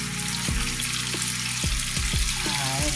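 Turkey tenderloins sizzling in a pan with a drop of oil, a steady close frying hiss punctuated by several sharp taps as the pieces are set down.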